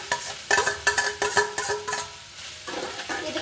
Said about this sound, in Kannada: ಆಲೂಗಡ್ಡೆ ಹಾಕ್ಕೊತಾ ಇದ್ದೀನಿ.